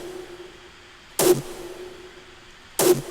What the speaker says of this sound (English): this is just a raw kick that sounds like this with a lot of reverb